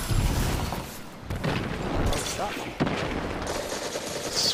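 Heavy weapon fire in the Destiny 2 video game, from a wide-spread rocket launcher that fires many shots: dense, continuous bursts of blasts and impacts fill the clip, with sharp louder hits near the middle and end and a voice talking underneath.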